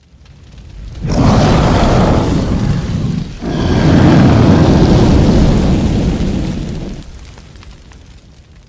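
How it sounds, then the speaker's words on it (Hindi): A big warehouse explosion in a film of The Thing: a loud, sustained roaring blast that swells in, dips briefly, then rumbles on for several seconds before fading out, with no voices. "उस वेयरहाउस में बड़ा धमाका हो गया था"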